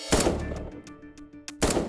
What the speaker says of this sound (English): you hear that bang, and we believe that might have been the gunshot